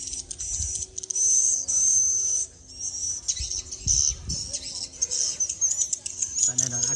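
Swiftlet calls played back inside a swiftlet bird house, a steady stream of high chirping and twittering that pulses in bursts over a low background hum.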